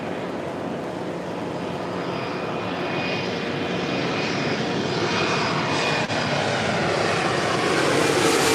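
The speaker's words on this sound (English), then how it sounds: "United Express, operated by SkyWest Airlines, coming in from Monterey, CRJ 700ER." A SkyWest Airlines CRJ-700ER regional jet, flying as United Express, arrives at LAX with a steady, loud engine roar that builds gradually and holds throughout, with no talk.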